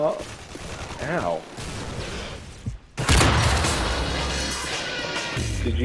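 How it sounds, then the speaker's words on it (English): A flashbang grenade goes off in Call of Duty MW3, a sudden loud bang that leaves a bright ringing wash over scattered gunfire and game noise, with a voice talking briefly beforehand. "Did you flashbang me?"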